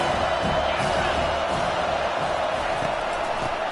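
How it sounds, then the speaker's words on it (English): A large home crowd at a Utah versus Iowa State college football game roars in a dense, sustained wall of cheering and noise, loud and unbroken throughout. "how nice is it to have the home crowd going absolutely bananas?"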